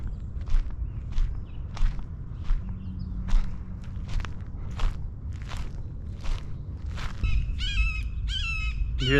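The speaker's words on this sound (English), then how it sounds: "That's a red-shouldered hawk." A red-shouldered hawk calling near the California–Mexico border, sharp repeated cries that end in a brighter burst, heard over steady footsteps and outdoor rumble.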